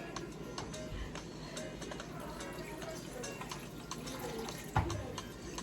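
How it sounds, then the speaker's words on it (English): Water is tipped into a cooking pot of Jamaican curry chicken feet, a quiet steady splashing and trickling with small ticks and clinks from the pot and a brief louder knock near the end. "I'm gonna go ahead now and tip some more water in the pot"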